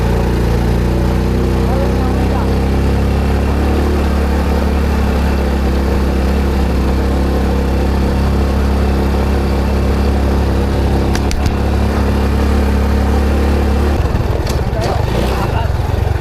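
A Honda engine on a farm runs steadily close by, a loud, continuous low droning hum that shifts to a rougher tone near the end.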